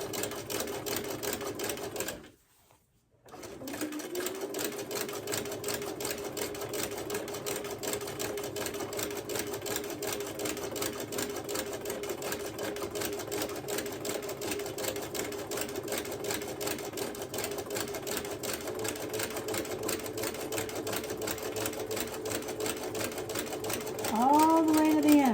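A sewing machine stitches a quilt block seam in a steady, continuous mechanical whir, close and even, with one brief pause near the start and a faint squeak at the end.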